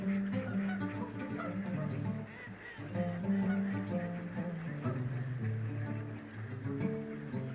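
Trumpeter swans honk steadily in a dense, continuous chorus of overlapping nasal calls, loud and close, with no pause for the whole stretch; the birds are linked to the Nebraska Sandhills.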